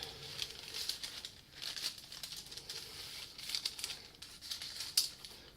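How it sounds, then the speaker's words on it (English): Greaseproof paper slid under a guitar-neck block in a luthier's workshop, crinkling and rustling in soft, scattered bursts with small sharp ticks, quiet and close. "So I'm going to slide my piece of greaseproof paper under there."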